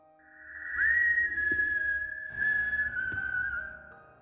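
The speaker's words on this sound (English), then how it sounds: "Then I heard it, the whistling, and it was coming from underneath my bed." An eerie, sustained whistle in a horror story, drawn out as one long wavering tone that slides slightly downward over several seconds, heard alone against low rumbling ambience and a few faint thuds.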